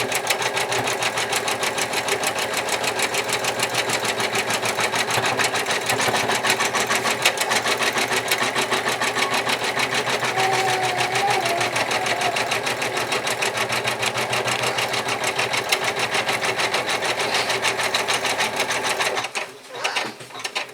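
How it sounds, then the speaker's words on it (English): A sewing machine runs a placement stitch for applique, a steady continuous mechanical whir with rapid needle rhythm lasting nearly the whole span, close and loud, stopping with a brief clatter at the end. "So let's go ahead and run what's called a placement stitch."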